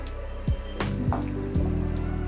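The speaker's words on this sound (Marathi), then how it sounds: "थोडंसं पाणी टाकायचं याच्यामध्ये" Water is poured into a pan of cluster bean (gavar) curry mixed with crushed peanuts, a short liquid splash and trickle preceded by a few clinks of utensils against the pan.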